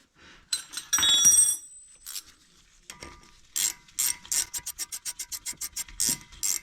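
Brake bolts being tightened on a Honda Odyssey, with a brief grinding rub followed by a quick run of sharp, evenly spaced ratchet clicks, close up and without talk.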